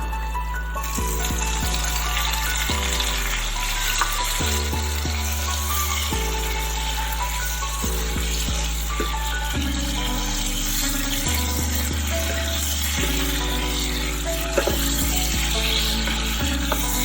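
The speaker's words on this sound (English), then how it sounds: "So the remaining of the oil, I'm going to fry the tomatoes." Tomatoes fry in leftover oil in a pan, a steady, loud, continuous sizzle and crackle with occasional clinks of the cooking utensil, no talking.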